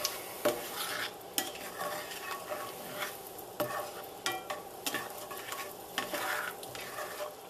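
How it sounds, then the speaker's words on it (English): Butter sizzling in a cast iron skillet, a close crackling hiss punctuated by repeated scraping knocks of a utensil against the pan, with no talking. "Then we take our cast iron skillet. We'll put in a generous amount of butter. Get that melted down."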